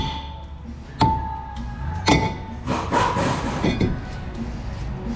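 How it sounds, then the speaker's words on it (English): A stuck, rusty brake assembly struck repeatedly with a tool: sharp metallic knocks at irregular intervals, close and loud, followed by a rapid cluster of scraping taps, with no talking. "Tappy tap action."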